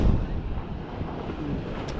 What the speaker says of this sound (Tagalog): Lalaki ng alon mga kapings.